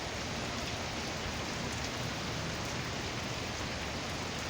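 Heavy rain pours outdoors through trees during a Georgia storm under tornado warnings, a steady, dense hiss with no let-up and no voices.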